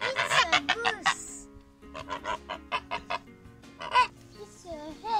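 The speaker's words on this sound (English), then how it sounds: "It's a hen." A hen clucks in a series of short, close calls, with a few louder squawks mixed in among quieter rhythmic clucks.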